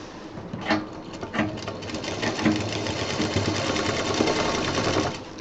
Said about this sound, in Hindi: अब इसमें हम ये जो हमने जिप तैयार की थी इसको इस तरह से मिला के सिल देंगे।